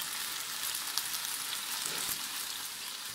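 Udon noodles fry in a pan, giving a steady, close sizzle that holds at an even level throughout with no talking.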